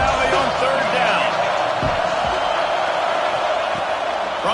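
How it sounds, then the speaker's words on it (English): Loud, steady roar of a big stadium crowd in Happy Valley during a third down in a college football video game, a dense continuous wash of noise with faint thumps and whoops. "Here comes the noise from this big crowd in Happy Valley on third down."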